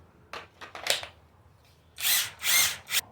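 Seesii 1/2-inch right angle impact wrench on a Makita battery, a few short whirring bursts and then three louder hammering pulses, close by.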